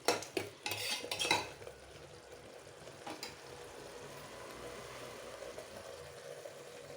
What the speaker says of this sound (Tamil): இது நல்லா பச்சை வாசனை போகிற வரையும் கொஞ்ச நேரம் ஒரு 5 நிமிஷம் வதக்கணும்.